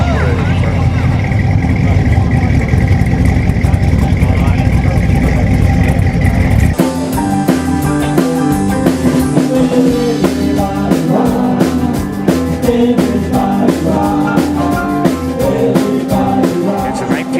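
A 1926 Ford Model T with an original, unchopped body runs steadily at close range, its engine note continuous and loud for the whole stretch, with a rougher, busier texture setting in partway through.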